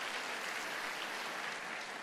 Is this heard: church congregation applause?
yes